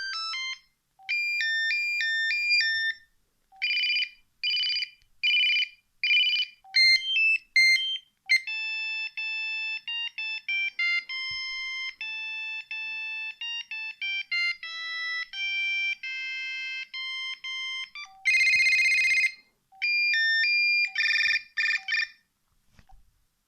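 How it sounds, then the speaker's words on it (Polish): A Motorola Timeport P7389 mobile phone from around 2001 plays a string of monophonic ringtones, loud and close, short bursts of beeping electronic melodies with brief gaps, some warbling and rapid, others sustained, with no voice. "tu jest dzwonek niemiecki, dzwonek francuski, dzwonek brytyjski, bardzo ciekawe nazwy,"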